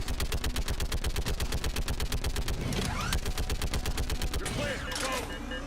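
Rapid automatic gunfire in a Mass Effect 3 firefight, loud sustained bursts of rhythmic shots with sci-fi weapon effects, while a voice briefly speaks over the shooting.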